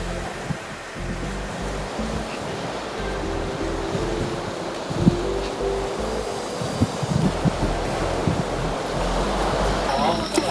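Heavy surf and strong currents crash and churn continuously along the reef coast of Kenting, Taiwan, a loud, rushing roar of ocean water with wind noise buffeting the microphone.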